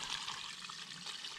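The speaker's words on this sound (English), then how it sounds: "I'll let you see me dump this water so you can see how dirty it is" Dirty rinse water from air filter wraps being dumped out, a soft steady pouring splash, fairly faint and brief, with no voices.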